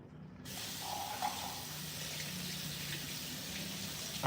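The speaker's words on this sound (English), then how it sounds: "Gonna pour myself a hot cup of coffee." Hot coffee pours steadily into a cup with a continuous liquid hiss and splash, close and fairly quiet, running unbroken for several seconds.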